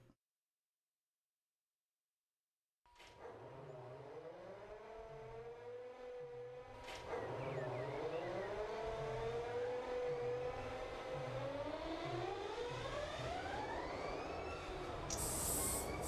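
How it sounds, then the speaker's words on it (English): Diesel locomotive engines firing up in Run 8 Train Simulator: silence, then a sharp start and a rising idle, a second engine kicking in to thicken the throbbing rumble, then revving upward with a hiss near the end. "let's get our engines fired up"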